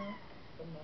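A three-legged cat gives a short, close meow with a faint second cry, briefly mixed with a soft voice in the background.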